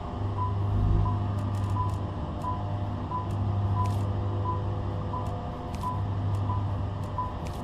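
Warning beeps in the game StarRupture repeat at a quick, even pace, with short tones sounding over a steady low hum and occasional clicks.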